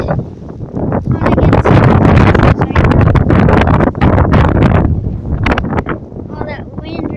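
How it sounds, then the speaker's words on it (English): Strong gusting wind buffets the microphone outdoors in windy weather, a loud continuous roar with rumbling surges and no talk heard. "Hear that? That's all wind."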